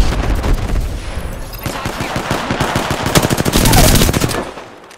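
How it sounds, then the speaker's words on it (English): Automatic weapon fire rattles in rapid, dense bursts during an Apex Legends match, loud and close, with short pauses between volleys and a final burst before it fades out. "Taking fire."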